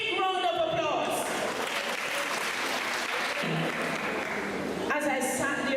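An audience at the Bellefield Primary & Infant School graduation bursts into a sustained round of applause lasting several seconds, with a speaker's voice just before and after.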